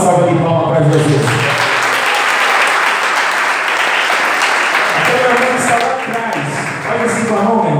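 A church congregation breaks into loud, sustained applause that fills the hall, dense and continuous, with a voice and music underneath at the start and end.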